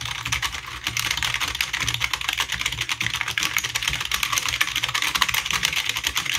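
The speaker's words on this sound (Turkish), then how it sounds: "Bu klavye ve mouse'un bir ses testini beraber bir yapalım." Rapid, continuous clacking of a Rampage gaming mechanical keyboard being typed on quickly, close up and fairly loud, with no voices.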